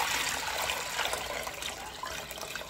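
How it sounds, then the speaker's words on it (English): Hot tap water pours into a pot of beans being cooked as pottage, a steady close splashing rush of liquid that gradually eases. "So I'm using the hot water from my tap."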